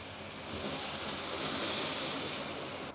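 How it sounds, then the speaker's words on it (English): Ocean surf at high tide bursting through limestone blowholes on the East End of the Cayman Islands, a steady loud rush of spray and crashing water with wind noise, sustained throughout. "it creates these like dramatic sprays of water that shoot up in the air"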